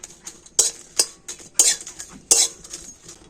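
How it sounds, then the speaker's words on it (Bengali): Dried red chillies are stirred in a kadai with a metal spatula, producing four or five sharp scraping clanks at an uneven pace over a faint background sizzle. "তো প্রথমে আমি শুকনো লঙ্কা কটা কড়াতে দিয়ে দেব। যেহেতু লঙ্কা ভাজতে একটু সময় লাগে"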